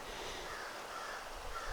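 A crow-like caw sounds from a bird along a forest fire tower trail in a state park, a single faint call in quiet outdoor air.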